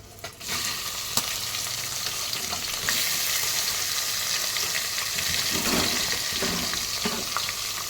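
Onions and leaves frying in hot oil for a fish curry, a steady close sizzle with bursts of stirring throughout, no talking.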